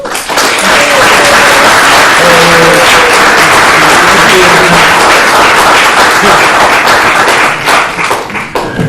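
Loud, sustained audience applause welcoming lecturer George Lakoff before his talk on the political divide, dense clapping from a full hall that holds steady for several seconds, with some crowd murmur and voices mixed in.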